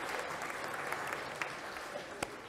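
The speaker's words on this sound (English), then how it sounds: "Give yourselves a round of applause." Children in a Christmas lecture audience clap together in a quiet, even round of applause, many small hands sounding a steady patter with a couple of sharper claps near the end.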